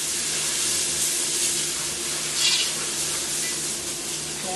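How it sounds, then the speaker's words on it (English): Garlic sizzles in a pan while being stirred for shrimp étouffée, a steady, fairly close hiss of frying that holds even throughout, with no talking. "now I'm going to go ahead in and add about 1 tablespoon of the garlic"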